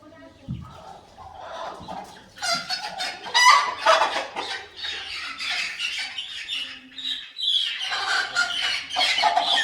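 Hens squawk and cackle close by in repeated, overlapping bursts, loud and excited, rising again toward the end.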